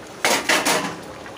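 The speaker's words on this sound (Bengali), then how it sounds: "ঢাকনাটা খুলে দিচ্ছি।" A lid lifts off a cooking pot of simmering jackfruit curry in a home kitchen, giving a couple of quick metallic clanks and a scrape, close by, that fade within a second.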